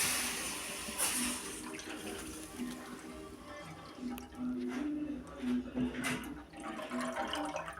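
A kitchen tap runs faintly, water trickling and splashing into a sink or pot while people talk quietly nearby.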